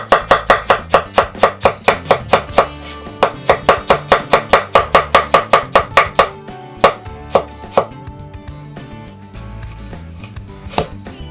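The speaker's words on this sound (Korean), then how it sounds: "그리고 양파 대충 채를 썰어주세요" A knife chops onion into rough strips on a cutting board for Indian dal makhani: a fast, steady run of sharp close taps, then slower scattered chops trailing off, with no talking.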